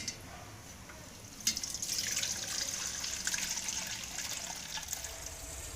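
Warm water is poured through hog plum pulp and strained into a cooking pot. A steady trickle and splash of liquid runs throughout, with a sharper splash near the start and no talking.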